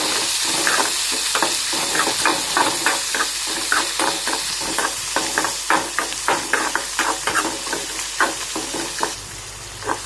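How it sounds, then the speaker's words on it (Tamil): Chana dal, dried red chillies, tamarind and tomato sauté in a pan for a Tamil kovakkai kulambu, with steady close sizzling and frying under a regular rhythm of scraping stir strokes and clinks, no voices. "அதனால் அதையும் போட்டு நல்லா வதக்கி விடுங்க."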